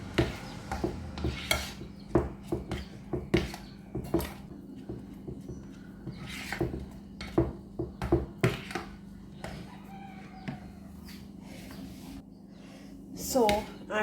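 A spoon stirs thick, non-runny puff puff batter in a bowl, giving repeated scraping and knocking clicks in an uneven rhythm, close and moderately loud, over a low steady hum with faint talk around it.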